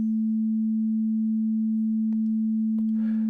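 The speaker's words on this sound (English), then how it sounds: "Which corresponds to a frequency of 220 hertz. So a sine wave, we don't expect to see any harmonics." A pure 220 Hz sine tone at A2 holds perfectly steady and loud throughout, with a couple of faint clicks near the end.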